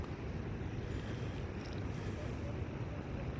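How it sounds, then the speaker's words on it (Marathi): Water of Bhavali Dam washes slowly against its shore, a steady low rumble of small waves mixed with wind buffeting the microphone, continuous and fairly close. "सावकाशपणे पाणी वाहते बघा लाटा कशा काठावरती येत आहेत"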